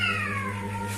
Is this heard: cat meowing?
yes